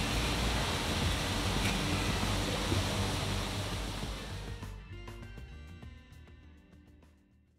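Waterfall in a plant-filled atrium, a soft, steady rush of falling water that fades toward the end as other faint sounds emerge.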